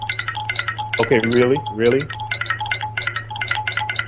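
A mobile phone rings with a repeating electronic tone pattern that runs throughout, fairly loud and close, while someone briefly talks over it.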